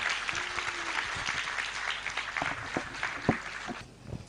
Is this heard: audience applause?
yes